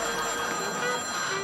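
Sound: telephone ringing

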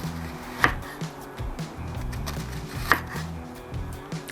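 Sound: slicing onion into 2-3 mm rings with a knife

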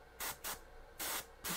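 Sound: airbrush spraying white highlight paint

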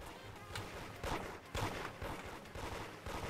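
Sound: G19X guns shooting in the Roblox game Toilet Tower Defense

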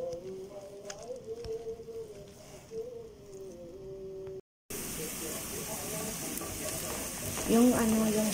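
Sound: spinach sautéing in a pan

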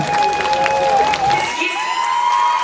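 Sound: audience applause

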